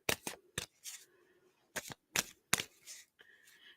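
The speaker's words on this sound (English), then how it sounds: "Sometimes I have to shuffle and shuffle and shuffle." A deck of cards is shuffled by hand in short crisp riffling bursts separated by brief pauses, close and fairly quiet.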